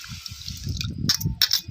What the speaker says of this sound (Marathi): दोन पाण्याने आपल्याला ही मासं धुवायचं